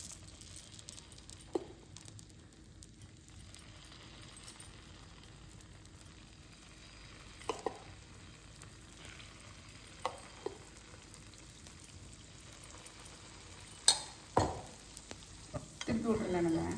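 Paniyaram batter poured into the wells of a hot paniyaram pan gives a soft, continuous sizzle with occasional clinks and scrapes, and the frying grows livelier toward the end.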